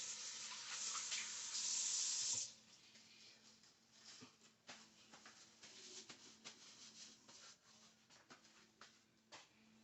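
Hands are rinsed under a running kitchen tap while chicken is being seasoned, the water rushing loudly for about two seconds before cutting off, followed by quieter rubbing and handling sounds.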